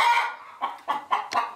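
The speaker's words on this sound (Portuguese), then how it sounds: "tem bastante galinha botando" Farm hens cluck in short, repeated bursts, about five close, clear calls with brief pauses between, alone without talk.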